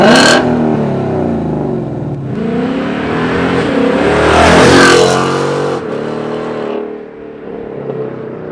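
2019 Mustang GT with resonator delete and X-pipe exhaust roars past, engine note rising loudly as it approaches, peaking, then fading away into the distance.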